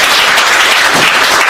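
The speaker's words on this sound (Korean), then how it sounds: "동의하시는 분 박수 치세요." Loud, dense applause from an audience at a Korean political talk with young people, a steady wash of many hands clapping close by for the whole moment.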